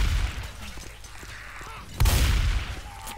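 Gunfire in the zombie shooter game Left 4 Dead 2 on a custom map, with a loud burst at the two-second mark and continuous rumbling combat noise throughout, no talk over it.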